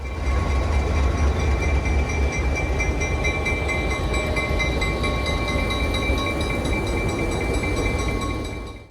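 A train on the Adirondack Railroad in winter rumbles past, a loud, steady low roar of wheels and engine with sustained high metallic tones, continuous for several seconds before fading at the end.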